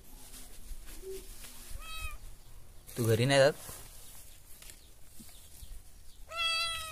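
A pregnant cat gives a few short meows, one loud near cry in the middle and another at the end, with a person talking and moving around nearby.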